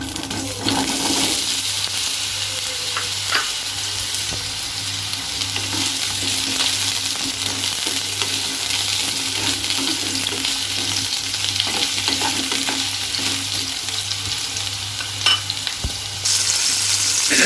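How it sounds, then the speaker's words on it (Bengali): Ridge gourd fries in hot mustard oil in a wok, giving a loud, continuous crackling sizzle with occasional stirring clicks and scrapes, heard alone without speech. "প্রথমে ঝিঙেটা ভেজে নেব।"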